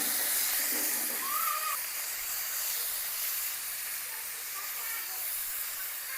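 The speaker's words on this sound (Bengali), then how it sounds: "এইবার দিয়ে দেব ব্রকলি" Broccoli hisses in hot oil in a pan alongside other vegetables, a steady close sizzle that holds evenly throughout, with a voice talking briefly near the start.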